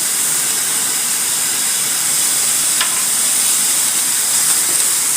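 Minced meat fries in a pan with a steady, loud, dense sizzle and hiss that continues without pause, cooking for a pasta dish, with no voices heard.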